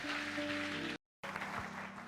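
Church audience cheering and clapping for a visiting pastor, a dense wash of applause broken by a brief moment of total silence before the clapping resumes.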